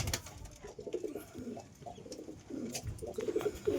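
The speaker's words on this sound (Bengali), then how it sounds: "লফট এগুলো শখের কবুতর, উড়ানো কবুতর।" Teddy and golden pigeons coo in a loft, several soft rolling calls repeating close by over a few seconds.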